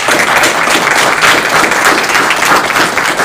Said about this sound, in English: I would appreciate it if they got a round of applause for all of them